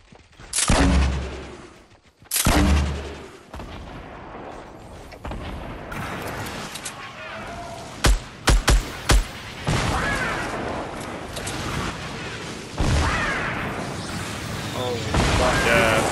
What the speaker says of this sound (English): he has so many rockets